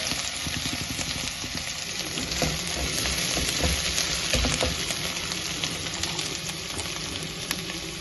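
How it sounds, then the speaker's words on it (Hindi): Homegrown potatoes lightly frying in a pan, a steady close sizzle with crackling oil and occasional stirring scrapes, continuous and fairly loud throughout. "इसको हल्का सा फ्राई करना है, ज़्यादा कलर नहीं देना बस"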